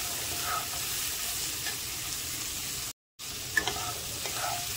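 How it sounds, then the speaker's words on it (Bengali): Vegetables frying lightly in a pan with salt and turmeric, a soft even sizzle close by with occasional stirring clicks and a brief dropout midway. "এগুলো ভাজার জন্য আমি দিয়ে দেবো একটু নুন আর একটুখানি হলুদ দিয়ে একটু একটু হালকা হালকা ভাজা করে নেব।"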